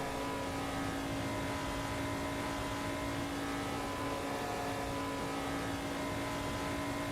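Continuous loud race car engine drone in the game Assetto Corsa, a steady sustained tone with strong harmonics and no clear gaps, alone without talk.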